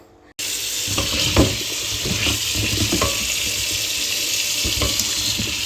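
Vegetables are washed under running water at a kitchen sink: the tap bursts on suddenly and then pours in a steady, fairly loud stream, with a few soft knocks and splashes as the produce is handled.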